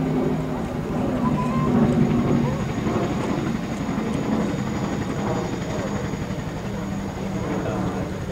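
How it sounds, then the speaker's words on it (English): A Boeing CH-47 Chinook tandem-rotor helicopter makes a rolling landing and touches down on a hard runway, its loud, steady rotor thump and turbine roar filling the whole stretch. "Chinook coming in for a rolling landing on the hard runway"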